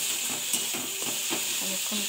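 Ginger paste sizzling in hot oil while chickpeas fry, a steady close hiss with soft rhythmic stirring scrapes throughout, no talk over it.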